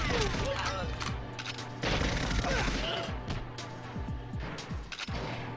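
Paintball gunfire in GoldenEye on the N64, repeated sharp shots in quick clusters with mechanical clatter and impact thuds, loud and close amid busy game sounds, with talk in places.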